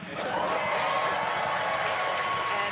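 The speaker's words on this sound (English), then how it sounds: "confirmed by the loud cheer behind us here at Mission Control Hawthorne" Loud, sustained cheering and applause fill the SpaceX Mission Control room in Hawthorne as Crew-5 stage separation is confirmed, a broad roar of many voices and clapping that swells quickly and holds steady.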